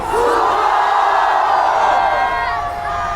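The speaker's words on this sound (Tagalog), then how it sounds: "ang Liwasang Bonifacio sumisigaw sabay-sabay!" A large crowd at a protest rally in Liwasang Bonifacio shouting in unison, a loud, sustained roar of many voices chanting together for several seconds.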